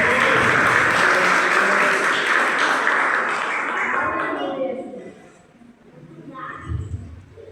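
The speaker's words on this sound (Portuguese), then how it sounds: "Vocês aplaudem o Senhor em nome de Jesus?" Church congregation applauding together, a loud, dense wash of clapping that holds steady, then thins and fades toward the end with a brief swell of voices.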